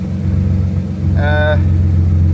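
A Nissan 300ZX Z32 Fairlady slick top with a repaired centre bearing drones low and steady from inside the cabin on a test drive, with a brief tonal squeak or whine partway through.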